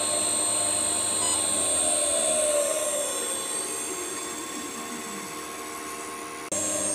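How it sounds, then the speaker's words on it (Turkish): An unloaded electric motor run by an ACS 350 drive spins up to maximum speed, a steady loud whine with high tonal ringing and a gliding pitch that settles, then an abrupt jolt near the end; no speech. "Tabii bunu ben biraz arttırdığım zaman ucunda yük olmadığı için motor maksimum hızında dönmeye başlayacak."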